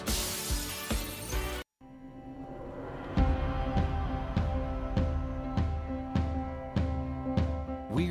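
A loud glass-shattering crash opens a Jones Paint and Glass TV advert: a brief, harsh burst, a short gap, then rhythmic music with steady beats.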